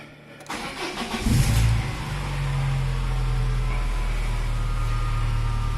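A Peugeot car engine cranks briefly, catches and rises in a short rev, then settles into a steady, loud idle close by.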